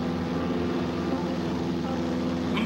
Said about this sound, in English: A game warden's plane.